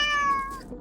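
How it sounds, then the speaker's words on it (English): A single cat meow, close and clear, a short rising-then-falling cry that fades out in under a second. "Oh, it's just a cat."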